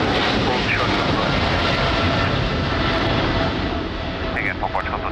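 Airliner taking off at Lisbon Airport in strong wind, a continuous loud engine roar buffeted by gusts throughout, with faint radio voices briefly audible over the noise.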